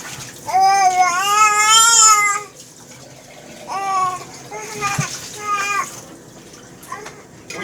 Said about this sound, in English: apologize for the fussy babies, but this is life when you have kids